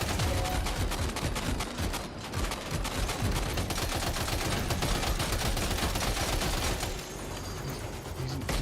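Sustained gunfire and explosions from the video game Death Stranding 2, dense and continuous throughout, with a voice speaking over the battle.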